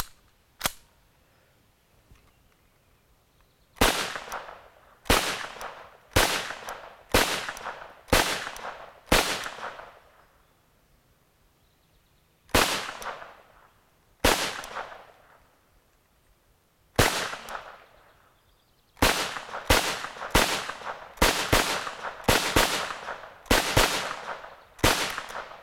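A G.S.G. MP40 9mm with light primer strike malfunctions fires loud, sharp shots close by, in irregular bursts of rapid reports broken by silent pauses where rounds fail to go off.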